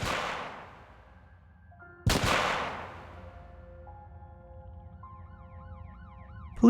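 Police car sirens wail as cruisers arrive at a crime scene near a secluded wooded area, the rising and falling tone growing clearer toward the end after two sharp loud bursts earlier.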